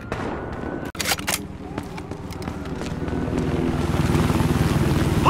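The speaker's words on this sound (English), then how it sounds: "Police chopper!" Police helicopter in the Battlefield video game, its rotor drone swelling louder toward the end amid sharp gunfire bursts and impacts in a chaotic combat scene.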